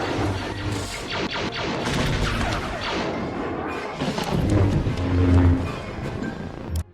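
Booming explosions, crashes and roaring craft fly through the Star Wars Attack of the Clones space battle outside Geonosis, a dense run of heavy impacts and whooshes that swell loudest near the end.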